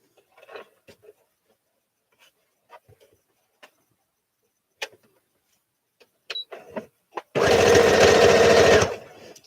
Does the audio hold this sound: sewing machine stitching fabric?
yes